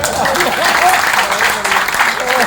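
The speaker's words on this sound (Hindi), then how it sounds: "तालियां कमजोर है" Short burst of audience clapping at a Hindi comedy poetry performance, fairly loud and dense, with some crowd voices mixed in.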